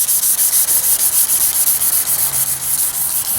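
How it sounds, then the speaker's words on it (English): Sandpaper wrapped around a wooden block rubs by hand across a wooden butcher block, a close, steady rhythm of quick rasping back-and-forth strokes with no pauses. "The last sanding is always done by hand. Wrap the piece of sandpaper around a block of wood."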